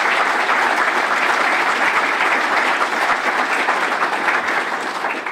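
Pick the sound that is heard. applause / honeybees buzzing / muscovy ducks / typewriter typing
applause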